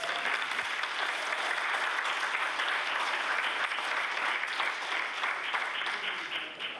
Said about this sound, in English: I'd like them to rise and receive the warm applause of this House.